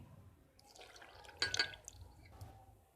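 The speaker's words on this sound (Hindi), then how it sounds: "दूध डालेंगे।" Milk poured into a jug holding mango, icing sugar and cocktail fruit in a home kitchen, heard as a faint liquid trickle and splash that peaks briefly midway in a quiet room.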